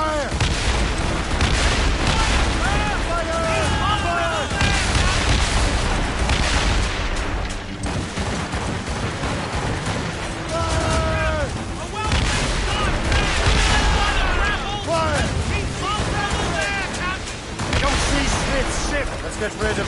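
A cannon and gunfire volley during an ambush in a PS4 game: rumbling booms and crackling shots run throughout, largely under loud shouted voices.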